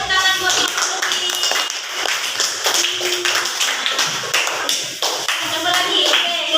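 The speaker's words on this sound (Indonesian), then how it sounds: "Oke, beri tepuk tangan buat Ibu Lumi." A classroom of students clapping hands together in a quick, uneven burst of sharp claps, close and lively, with voices mixed in.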